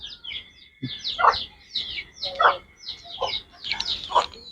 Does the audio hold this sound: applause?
no